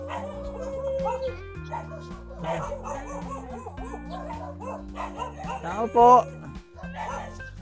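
Several dogs bark and yip excitedly at close range, overlapping one another with some whimpering, while people talk and laugh over them.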